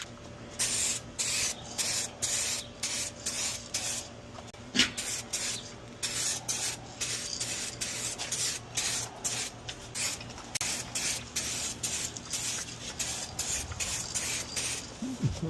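2K aerosol paint sprayed onto a headlight housing in repeated short hissing bursts, close and steady in rhythm, with no talking.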